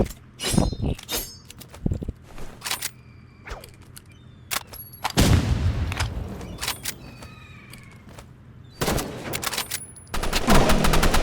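Rapid bursts of gunfire in the video game Rivals, loud and close, with repeated automatic volleys and sharp single shots over a rumbling background.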